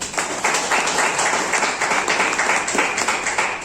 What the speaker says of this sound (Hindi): नीरव सर के लिए जोरदार तालियां।